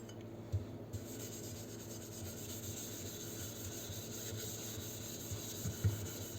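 A burnt teapot being scrubbed and polished gives a steady, close rasping rub that runs continuously, with a couple of soft knocks near the start and the end.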